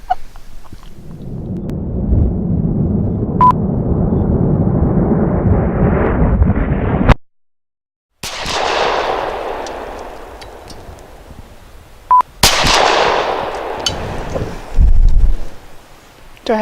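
Several loud gunshots from a Keltec PF-9 pistol fired outdoors, each a sharp blast with a long rolling echo, spaced a few seconds apart and heard alone with no talk.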